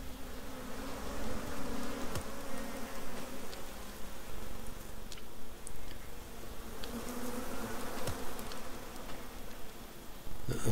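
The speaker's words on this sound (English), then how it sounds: "Don't tell me there's another bee nest." Bees swarm around a hive in the survival game Icarus, a continuous, even insect drone that holds at moderate loudness with faint ticking clicks scattered through it.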